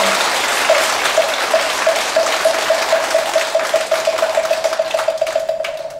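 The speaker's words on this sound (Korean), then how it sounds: "다시 한번 뜨거운 박수 부탁드립니다." A large audience at a Buddhist lantern-lighting ceremony gives dense, sustained applause. The clapping is loud and even throughout, with no talk over it.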